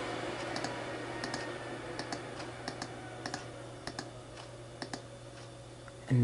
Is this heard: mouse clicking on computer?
yes